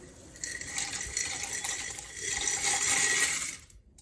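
Dry pasta pours into a pot for a feta tomato pasta dish. A loud, continuous rattling patter swells and peaks, then stops abruptly near the end.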